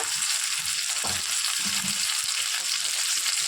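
A spoonful of garlic paste fries in a pan with whole cardamom and cloves, producing a loud, even sizzle that fills the whole stretch, near and unbroken, with a few faint knocks underneath.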